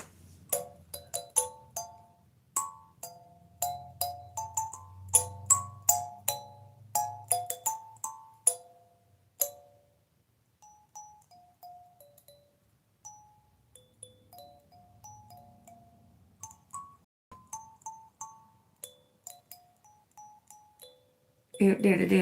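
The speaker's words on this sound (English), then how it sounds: "It's a bell notification to get the demons out." A bell notification chimes repeatedly in bright tuned dings, a dense run of ringing notes that thins out over time, with talk mixed in underneath.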